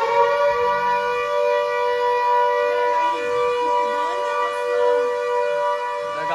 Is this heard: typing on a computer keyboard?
no